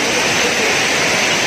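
A river rushes steadily nearby, a loud, continuous broadband wash of flowing water with no breaks and no voices over it.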